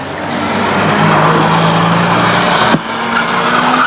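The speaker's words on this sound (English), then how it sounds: "The pace car speeds it up." Banger race cars circle Ringwood Raceway in 1998 behind a speeding pace car, a dense, loud wall of engine roar with a sharp crack near the end, then the pack droning on.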